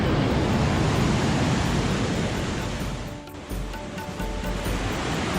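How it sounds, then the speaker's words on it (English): River water rushing through a gorge in Bavaria, Germany roars loudly and continuously, a dense churning wash that dips briefly before surging back at full strength. "listening to the water surging by as you weave through caves and alleyways"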